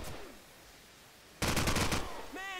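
Call of Duty 4 gunfire, a short burst of rapid automatic shots lasting about half a second, sounds loud and close after a quiet stretch, followed by a brief tonal game sound.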